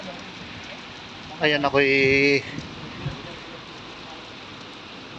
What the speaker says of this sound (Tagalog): lalo lumalakas yung ulan